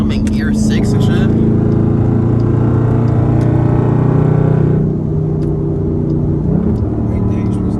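A straight-piped Dodge Durango SRT pulls hard in sixth gear, its engine a loud, droning, steadily climbing roar heard from inside the cabin, easing briefly before building again.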